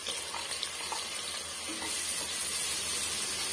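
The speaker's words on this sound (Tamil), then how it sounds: "இதுவுமே வந்து பச்சைவாடை போகிற வரைக்கும் வதக்கி விட்டுக்கலாங்க" Ginger garlic paste sautés in a pan for a village-style country chicken curry, giving a steady close sizzle with faint stirring scrapes throughout.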